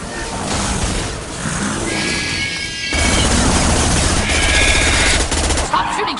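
Gunfire during combat in Mass Effect 2 Legendary Edition on PS5: dense, loud bursts of shooting mixed with crashes and impacts. The volume swells midway, and voices come through the din.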